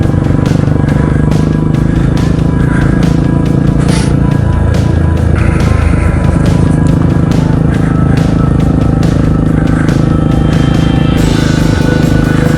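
A Kawasaki KLR motorcycle rides along with its loud, close engine drone and heavy wind rush throughout, the engine note shifting slightly as the rider changes speed.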